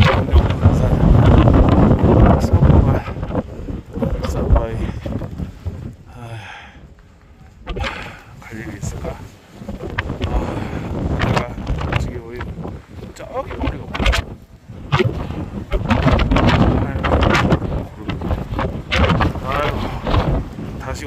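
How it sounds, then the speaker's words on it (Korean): Strong, biting winter wind buffeting the microphone on a snowy Seoraksan mountain trail in Korea, roaring in heavy gusts that rise and fall, briefly easing before surging again. "아, 이게 칼바람이구나."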